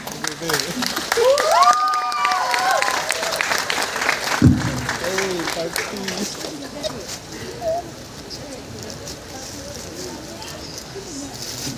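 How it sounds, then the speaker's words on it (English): Applause rises from the crowd at a talent show event, a broad wash of clapping that fades gradually, with a loud voice speaking over the start and birds cooing and chirping nearby. "A big applause for"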